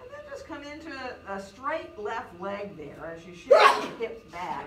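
A single sharp sneeze bursts out near the end of a yoga class, loud and brief against an instructor's calm spoken cues, which continue around it.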